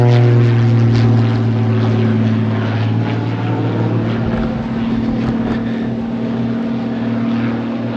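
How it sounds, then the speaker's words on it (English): A helicopter flies overhead near the River Trent, its engine giving a loud, steady droning hum with a sustained tonal whine that gradually eases over several seconds. "I can definitely hear an helicopter"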